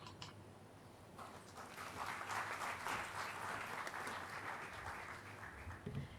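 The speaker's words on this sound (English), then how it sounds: "Shall we all give a better round of applause, ladies and gentlemen, even though he's not here with us?" A graduation ceremony audience gives a sustained round of applause, a steady wash of many hands clapping at moderate distance, fairly faint, swelling slightly then holding to the end.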